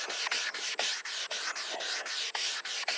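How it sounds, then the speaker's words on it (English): A sanding sponge scrubs across a yellowed, oxidized plastic car headlight in steady back-and-forth strokes, close and loud, with brief pauses between passes and no talking. "So, the key to it, you're going to have to sand it."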